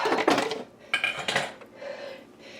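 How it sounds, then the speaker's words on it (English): Cooked canned potatoes and carrots tumbling into a metal pan, a couple of clattering bursts of impacts followed by softer settling clinks, close and clear with no talk. "I'm going to start dropping my taters and my carrots"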